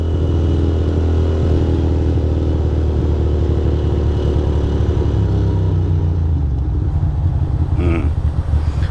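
Ducati Monster 620 ridden on a warm-day cruise with a loose steering stem: a loud, steady engine rumble with road and wind noise, close and continuous, easing slightly toward the end.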